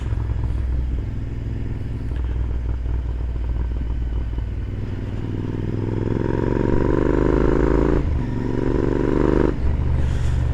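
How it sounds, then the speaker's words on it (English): A Royal Enfield Interceptor 650 motorcycle engine rasping and burbling as revs fall on deceleration, a loud close low rumble with a steadily rising whine, then a brief dip and the engine picking up again. "You can hear that lovely raspberry, that lovely rasp noise as your engine goes down."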